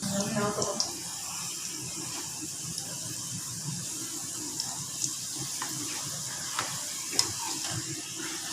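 Mutton karipap deep frying in hot oil in a pan, a steady sizzling hiss with occasional pops and light utensil clatter.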